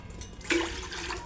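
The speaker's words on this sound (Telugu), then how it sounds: "ఇక్కడ వాటర్ పోసేసుకోవాలి సగానికి" Water is poured into the base of an idli steamer pot, filling it about halfway; a short splash and gurgle of running water, close by and moderately loud, with no talking.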